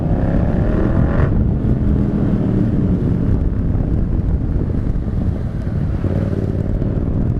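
A motorcycle fitted with an aftermarket Tiger exhaust runs steadily and loud throughout, a continuous engine drone with wind buffeting the microphone, as if riding.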